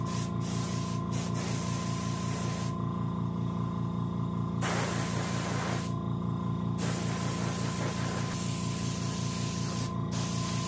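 A steady, close spray-paint hiss as a white coat goes onto a rock bass mount for taxidermy, running continuously with a few brief pauses in the spray and a faint mechanical hum underneath.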